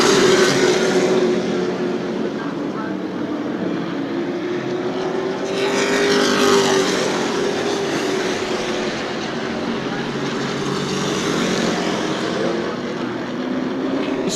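Sportsman division race cars roar around New Smyrna Speedway in a loud, continuous wash of engine noise, with a rising and falling engine whine as the field passes close by.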